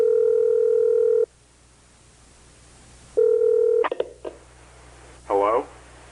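A telephone gives steady ringback-style tones, then a short dialing beep burst with clicks, followed by a voice on the line, all heard through a played video with a faint background hum.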